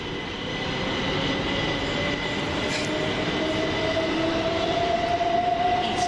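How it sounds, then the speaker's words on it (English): Southern Class 377 electric train 377458 pulling away from a platform at East Croydon station, a steady loud rumble with a rising motor whine and faint wheel noise, close by, no talk. "377458 will lead away a Victoria train"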